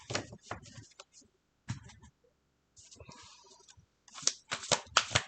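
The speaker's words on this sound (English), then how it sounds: "I usually shuffle and deal off camera." A deck of cards riffled and shuffled in quick bursts, crisp fluttering snaps with short pauses, close by, ending in a louder flurry.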